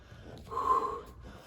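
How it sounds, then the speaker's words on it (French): After a crosstraining cardio exercise, a person breathes out hard in one forceful, close exhale, a breathy huff rising and fading within about half a second. "Je respire, je souffle."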